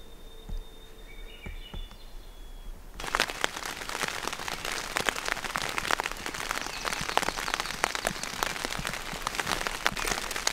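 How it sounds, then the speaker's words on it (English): Quiet night insects at a camping spot give way to sudden steady rain pattering densely on a surface close by, continuing evenly to the end. "hopefully this rain clears up"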